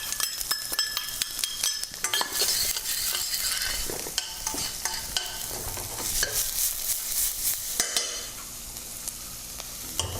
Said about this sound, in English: So I'm going to put in some garlic and ginger. And into that I'm going to put some onions.